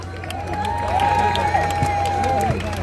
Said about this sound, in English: And all have a nice round of applause for all the people working backstage.